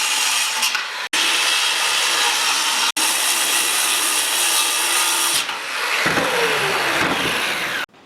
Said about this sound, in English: Here I'm cutting the sheet into more manageable sized pieces.